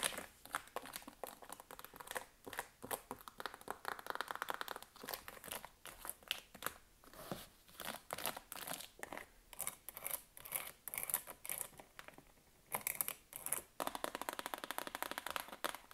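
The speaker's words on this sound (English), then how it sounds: "kids' books are great for ASMR. They sound so good. Especially the books with all the different textures and such." Fingers tap and scratch quickly across textured pages of children's books in a living room, with close, crisp bursts of crinkly scraping and tapping that come and go.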